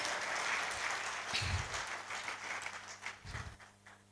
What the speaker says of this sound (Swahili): Tumpigie makofi kidogo.